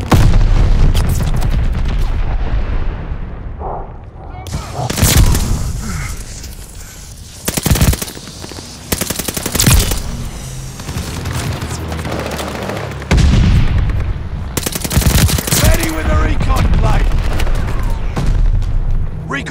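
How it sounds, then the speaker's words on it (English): Explosions and bursts of automatic gunfire crash loudly and almost without pause in a Call of Duty: Vanguard team deathmatch, with an incoming bomb blast, sharp shots and booming impacts overlapping, then short lulls before more heavy fire. "Incoming bomb!"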